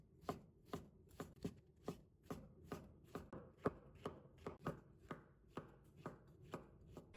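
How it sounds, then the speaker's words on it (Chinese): A knife chops fresh shiitake mushrooms into slices on a board in a quick, steady series of crisp, close strikes, roughly two per second, with no talking. "再准备几朵鲜香菇，"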